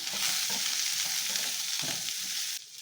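Masala spices frying in oil in a pan, a continuous close sizzle with soft stirring scrapes that drops away abruptly near the end, no talking.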